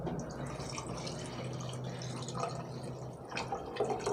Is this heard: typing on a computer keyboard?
no